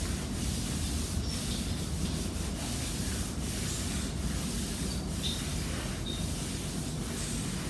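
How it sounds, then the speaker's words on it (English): Hands rub and pat against legs during a gentle yoga session, heard as a soft, continuous close brushing with faint rhythmic pats. "Just bounce your legs, either pat or rub your legs."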